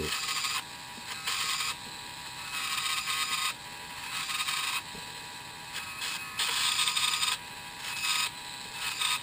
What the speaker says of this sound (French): je vais prendre ma Dremel avec une fraise